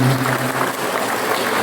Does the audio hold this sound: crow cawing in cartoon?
no